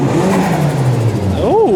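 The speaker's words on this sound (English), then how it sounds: "A lot of cars are starting to pull out." Cars at a nighttime underground car meet rev hard and accelerate as they pull out, one engine note climbing and falling loudly nearby, with voices talking underneath.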